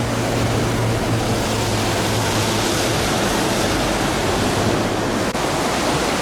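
The flooded Ain river rushes past Pont d'Ain at around 1000 cubic metres per second, a loud, dense, unbroken roar of churning water filling the whole clip without any speech.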